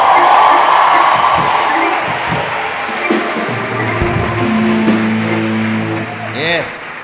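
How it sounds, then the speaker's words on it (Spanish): Young people in a church congregation shout and applaud loudly at first. The roar fades into crowd noise with band instruments and voices rising beneath it. "grita y aplaude lo mejor que puedas"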